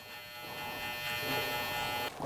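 Electric shaver buzzing steadily and loudly at close range as it cuts hair along the bottom of a temple taper fade, one continuous whirring tone with no talking.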